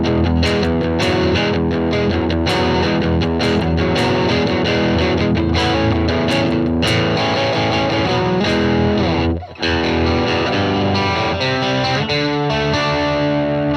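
A Squier Classic Vibe '60s Mustang electric guitar plays on its bridge pickup with no reverb, giving a loud, driven, distorted tone in strummed chords and riffs, broken by one brief pause.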